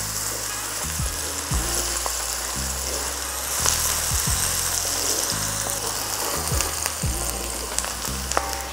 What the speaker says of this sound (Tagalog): Ito na yung bawang. Igisa lang natin to saglit, mga 1 minuto lang.